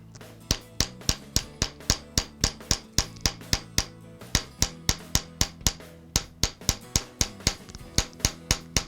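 A hammer strikes a concave metal bracelet held on a stake, about two dozen sharp ringing blows in a steady, even rhythm, close and clear with no talk.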